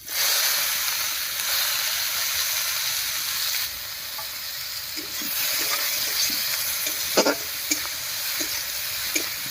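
Chopped onions sizzle and crackle in hot oil with whole garam masala, bay leaf and cumin for an egg curry, a continuous close frying hiss with occasional pops and stirring sounds and no talking.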